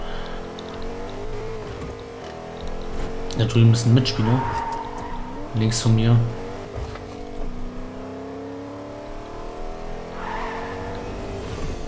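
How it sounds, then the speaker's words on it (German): An old truck in the Fortnite video game drives with a rough, worn-out engine note and a couple of tire skids partway through. Someone talks over it throughout. "Ein alter Truck hier. Der klingt aber nicht mehr gut."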